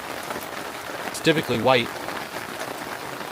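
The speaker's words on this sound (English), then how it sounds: "we'll have to wait until the rain toodles off here for a minute" Heavy rain pours steadily in the backwoods near a creek, making a constant hiss throughout, while a voice briefly speaks over it.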